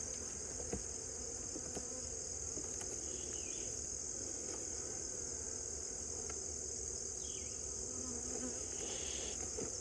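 Honey bees in an open hive give a faint, continuous buzzing drone, steady and quiet throughout with a few tiny clicks and distant faint sounds.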